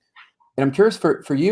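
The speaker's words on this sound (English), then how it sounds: "You may hear the dogs barking." A dog yips and whimpers briefly near the start, followed by a person talking close up that dominates the rest of the clip.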